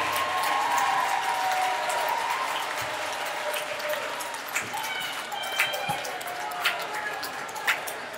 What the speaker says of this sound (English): a big CIAA round of applause for head women's basketball coach Stephen Jordan Jr.